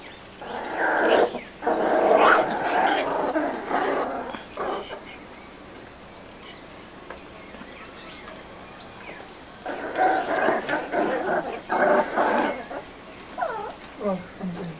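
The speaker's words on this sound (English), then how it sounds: "And they barking at each other." Two young puppies, about a month old, yelp and growl at each other indoors in two loud bursts separated by a quieter stretch, with a person talking faintly in between.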